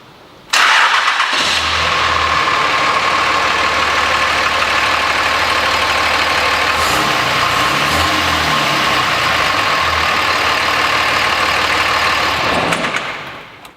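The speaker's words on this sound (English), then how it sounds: "I'll fire it up now and let you hear it start running" A 2005 Dodge Ram 3500 with a Cummins turbo diesel cranks over and catches, then settles into a steady, loud, close diesel idle with a deep rumble that runs unbroken until it cuts near the end.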